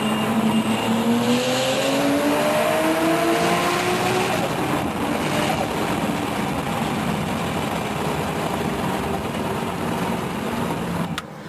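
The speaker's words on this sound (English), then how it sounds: "this is my buddy racing the 350Z Turbo" A turbocharged Nissan 350Z race car engine roars steadily as the car runs flat out, its pitch sweeping upward through a gear early on and then holding a loud sustained drone. Wind and road noise fill the recording, and it cuts off abruptly at the end.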